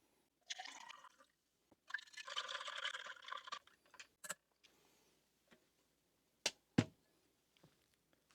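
Water poured for a lemon isotonic drink from a ration pack, two short splashing bursts close by, followed by scattered light clicks and taps of handling.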